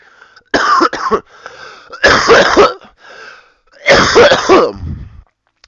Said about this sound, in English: I had this cough